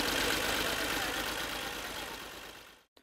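A tractor engine running steadily while compacting silage fodder laid in six-inch layers, a loud continuous rumble close by that fades slightly before cutting off at the end.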